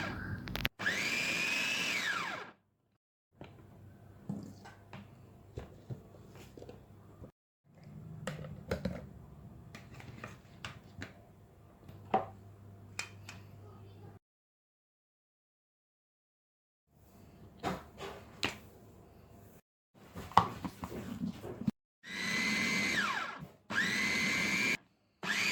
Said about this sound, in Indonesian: Dan semua nanas ini nanti akan saya chopper sebentar aja ya, jadi nggak usah terlalu lama supaya seratnya itu masih kelihatan.